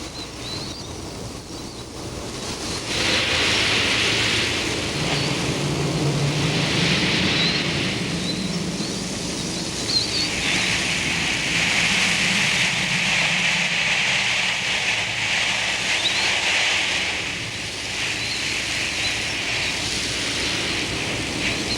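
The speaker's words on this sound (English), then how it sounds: "In the afternoons, a strong wind blows every day from the west" Strong westerly afternoon wind blowing across desert sand dunes near Lou-Lan on the Silk Road, a steady loud broadband roar that swells and eases in long gusts with no voices.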